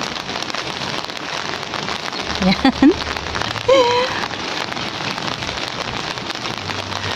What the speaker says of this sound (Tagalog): pakikita ko po sa inyo na umuulan